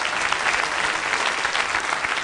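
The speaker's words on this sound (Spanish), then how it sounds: "Un aplauso para ellos." A studio audience at a televised Oviedo–Sporting football debate claps steadily and evenly, a dense, fairly soft burst of applause with no speech over it.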